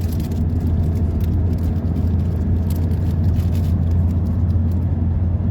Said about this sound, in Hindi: अब ये मोटरवे पे जो है आसिफ साहब ड्राइविंग कर रहे हैं।